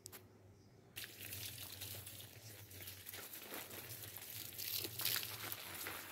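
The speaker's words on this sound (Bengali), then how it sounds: "এইভাবে আমি গাছগুলোকে ধুয়ে দিই, তাতে করে গোড়াটাও ভিজে যায়।" Water is poured over potted plants in a rooftop garden, giving a steady close splashing and trickling wash that swells toward the end. A low hum sits underneath.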